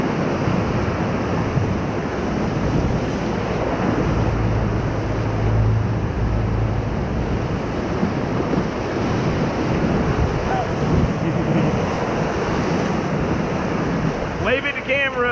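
Whitewater rapids on the Middle Ocoee River roar steadily and loudly throughout a rafting run, a constant broadband rush of churning water and surf with wind buffeting the microphone.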